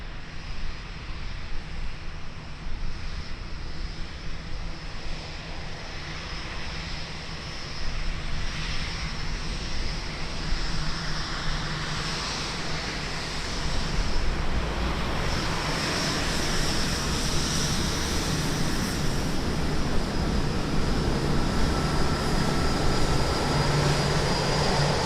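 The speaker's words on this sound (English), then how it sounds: "New Zealand flight 990, and it's coming in on the close taxiway" A New Zealand flight 990 airliner taxiing at Auckland Airport, New Zealand, produces a continuous jet-engine roar that swells gradually louder as it nears, steady and broadband with no speech.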